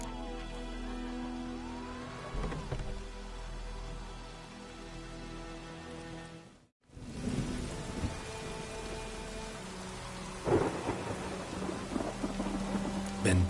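Steady heavy rain falls in The Witcher video game, a dense continuous hiss with low rumbles of thunder rolling beneath it. It cuts out briefly midway, then returns with louder spattering bursts toward the end.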